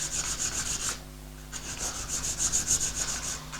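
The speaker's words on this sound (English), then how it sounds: "I'm just going to give it a very light finish off by hand using some 240 grit." Light hand sanding of a wooden gift project with 240 grit sandpaper, a steady rhythmic scratchy rubbing with a short pause partway through, close and moderately loud with no talk.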